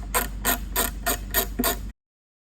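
A hand ratchet with a half-inch socket backs bolts off the fiberglass top of a Toyota Land Cruiser 70 Series, giving six evenly spaced, close clicking bursts, after which the sound cuts to silence.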